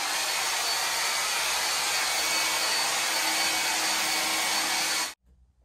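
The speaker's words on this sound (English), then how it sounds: "I just now got done blow drying my hair." A handheld hair dryer blows steadily for about five seconds while drying hair at home, a loud continuous whoosh that then cuts off abruptly, with no one speaking.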